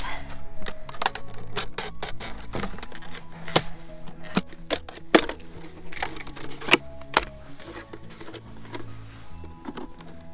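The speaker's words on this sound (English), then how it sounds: "And then I am just cutting off the bottom of these jugs." Plastic jugs have their bottoms cut off outdoors, giving a close run of irregular snipping, crackling and scraping sounds at moderate volume with no talking.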